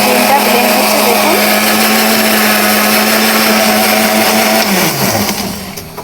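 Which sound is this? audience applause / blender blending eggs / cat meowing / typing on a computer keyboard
blender blending eggs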